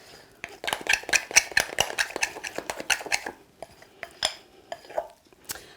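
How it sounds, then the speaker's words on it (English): Melted buttercream is stirred in a bowl with a utensil, producing a quick run of clinking scrapes against the bowl's sides, dense at first and then sparser, close and clear with no talk. "So if we now just give it a good stir."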